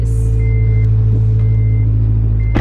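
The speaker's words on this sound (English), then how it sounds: "I know the RSX's idle is very loud" Acura RSX engine idling loudly, a steady deep drone close by, with a faint repeated electronic tone on top and no talk.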